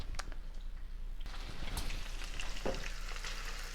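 Onions and green pepper cook in a pan, giving a soft, steady sizzle with scattered pops and crackles, close but fairly quiet, with no voices.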